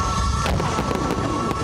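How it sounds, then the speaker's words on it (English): Fireworks over Port Moresby in Papua New Guinea burst during national celebrations, with a rapid series of crackling pops and booms over a continuous rumble, loud and sustained. "The celebrations started early with fireworks over the capital."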